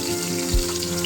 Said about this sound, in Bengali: এবার আমি এই মাছগুলিকে লবণ হলুদ মাখানো মাছগুলিকে তেলের মধ্যে দিয়ে